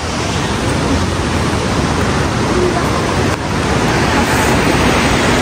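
A mountain stream (khola) rushes loudly and steadily through a green hillside, a dense, unbroken roar of water close by with no clear voices.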